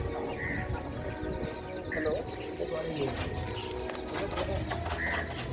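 Pigeons, including white birds, coo softly in a loft in Nagercoil over a steady busy background of rustling and muffled activity, with low murmuring voices faintly present.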